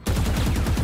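Rapid burst of gunfire in the shooter video game Valorant, a loud continuous rattle of closely spaced shots lasting under a second.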